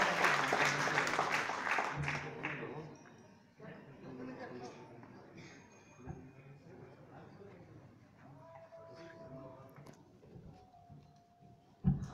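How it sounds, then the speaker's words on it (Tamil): Audience applause welcomes the guests of honour at a doctorate awards event: dense, loud clapping for the first two seconds, then thinning into scattered claps with voices talking and murmuring in the hall. "இன்னொரு அழகான கைத்தட்டல் கொடுத்து வரவேற்கிறார் நம்மளுடைய கெஸ்ட் ஆஃப் ஆனர்ஸ்."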